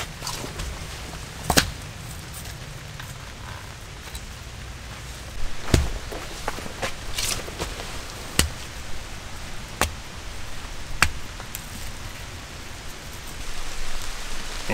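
A rainstorm falls on a forest shelter as a steady hiss of rain, broken by scattered louder drips and taps striking the surface at irregular intervals, with no talking.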